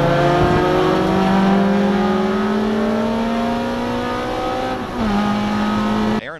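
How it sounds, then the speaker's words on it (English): Race cars accelerate together on a wet track at Mid-Ohio, their engines droning and climbing in pitch through the gears, loud and close, with a brief shift dip near the end. "Cars struggling to get power down to the ground as we accelerate towards turn number 1."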